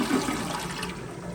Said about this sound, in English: Let's try the toilet again.